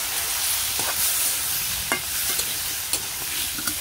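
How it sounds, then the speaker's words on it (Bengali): Potatoes coated in chili, turmeric and coriander powder are stirred and fried in a pan, giving a steady bright sizzle broken by scattered scraping strokes of the spoon, close and alone with no voices. "আলুটা ভালো করে কষিয়ে নিই"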